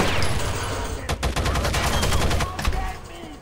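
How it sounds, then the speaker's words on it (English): Rapid bursts of automatic gunfire in the Rainbow Six Vegas shooter game, loud dense volleys cracking back to back, with a short lull and then more shots. "I'm already getting shot at."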